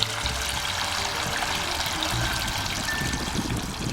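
Water from a garden hose pours steadily into an outdoor bird bath, a close, continuous trickling splash with slight gurgles and no talking.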